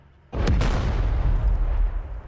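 A weapons cache blows up in a combined-arms shooter game, a sudden loud boom that cuts in and leaves a long roaring, crackling rumble trailing on.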